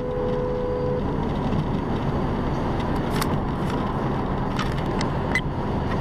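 Steady loud rush of a car driving at nearly 210 km/h on a road, constant wind and tyre roar with engine drone throughout and a few faint clicks.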